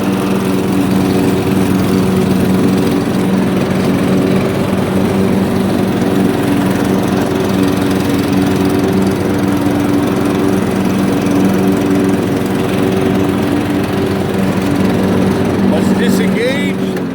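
A riding lawn mower runs with its blades engaged, holding a loud, steady engine drone with a constant whirring hum throughout and no letup.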